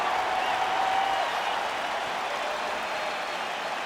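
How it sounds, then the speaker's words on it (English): Fight arena crowd at a professional MMA bout, a dense steady roar of cheering and applause filling the space continuously, loud and broad with no single voice standing out. "Crowd getting a little bit restless. Doctor has to tune out that noise"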